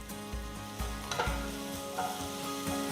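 Oil sizzles steadily in a pan with garlic and ginger while a utensil stirs and scrapes in irregular knocks, close by.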